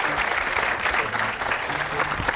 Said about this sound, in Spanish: ¿Y los aplausos? ¿Qué pasó pues con los aplausos?